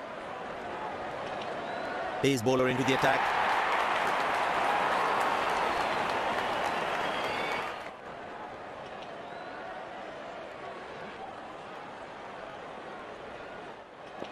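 A good crowd at an IPL T20 cricket match between Chennai Super Kings and Kolkata Knight Riders sends up a broad roar of cheering that swells and then drops away, with commentators talking over it.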